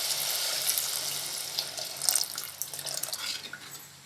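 Tamarind water poured into a pot of anchovy fish curry, a soft splashing, gurgling pour that swells briefly in the middle and then trails off, fairly quiet.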